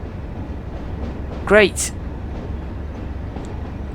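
A Class 37 diesel locomotive hauls a coal train on the Tees Valley Line in Train Sim World, with a steady low rumble and a short rising tonal blast in the middle; a voice briefly speaks.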